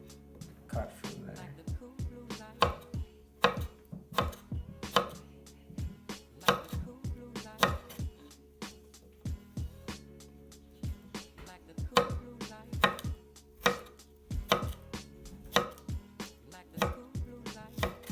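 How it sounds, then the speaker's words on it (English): A knife cuts fresh strawberries on a cutting board, hulling and halving them for a strawberry spinach salad, making a series of sharp close chops and taps in an uneven rhythm, with no speech over them. "we are going to cut the strawberries. So you're going to want to cut the top off, cut it in half, and then cut from there."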